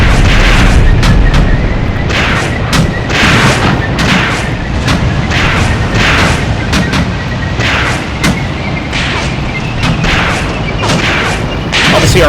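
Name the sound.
tank gunfire in Tank Warfare Tunisia 1943 video game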